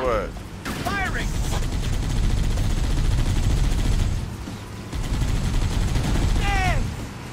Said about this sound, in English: You gonna shoot or what? Firing!